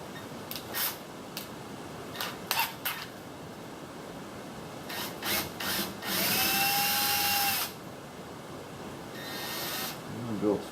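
A handheld power drill with a bit bores out a small part, the motor whining in a sustained burst and a few short bursts, with brief clicks and handling noise between them.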